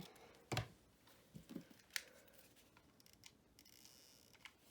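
Card stock is trimmed with scissors in a few sharp, close snips with quiet gaps between them, no talking.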